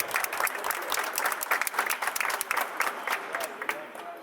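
Crowd applause rings out at the Maracanã stadium during a walk of fame ceremony honouring footballer Éder Aleixo, a steady dense clapping sustained throughout at moderate level.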